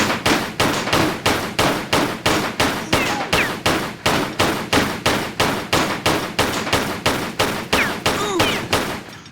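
Pistol gunfire in Tomb Raider III, a steady rapid series of loud sharp shots at a regular rhythm, repeating for several seconds with no pause.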